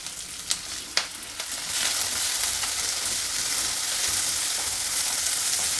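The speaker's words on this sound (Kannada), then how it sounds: "ಟೊಮ್ಯಾಟೊ ಈರುಳ್ಳಿ ಸ್ವಲ್ಪ ಫ್ರೈ ಆದಮೇಲೆ" Tomato and onion frying with curry leaves in a pan, a steady loud sizzle after a few sharp clinks of stirring at the start, with no talk.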